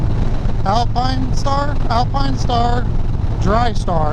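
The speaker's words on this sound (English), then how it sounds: "There's a lot of wind, so hopefully you can hear me" Heavy wind roar buffets the microphone while riding a Harley Dyna motorcycle on a cool day, a steady loud rush under a voice talking.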